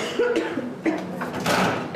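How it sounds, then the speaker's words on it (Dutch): People cough repeatedly in a busy hospital emergency department at UZ Gent, with several short harsh coughs spread across two seconds and indistinct voices in the background. "Kuchende mensen stromen toe"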